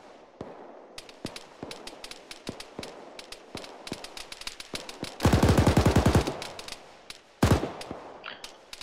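Rapid gunfire in the military video game Arma 3 cracks out as scattered single shots, then a loud, fast automatic burst and another short burst near the end, all sharp and close.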